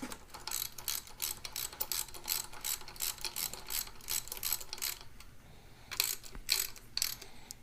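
Ratchet clicking close up as bolts are snugged and drawn in on a Ford 9 inch rear end, rapid pawl ticks in short repeated bursts with brief pauses, then sparser clicks toward the end.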